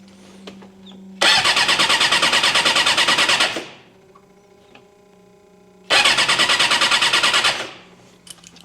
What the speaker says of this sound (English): I just want to make sure my starter gear in here is actually working